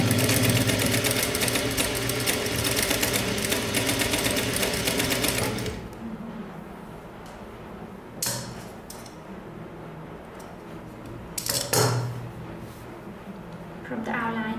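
Sewing machine running a straight seam on a kimono jacket, a loud steady buzzing whir for several seconds before it stops, followed by quiet handling clicks and rustles.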